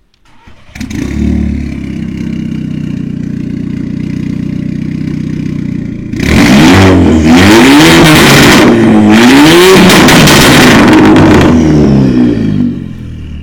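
A loud VW Golf 6 R engine with a full exhaust idles with a deep rumble, then revs hard several times, exhaust crackling and popping between the climbs in pitch.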